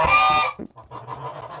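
Chickens on a farm let out a loud burst of harsh, honking squawks, then settle into quieter, scattered clucking and rustling nearby.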